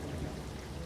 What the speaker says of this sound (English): The sound of the rain outside was strong, and the loud thunder kept shaking the ears.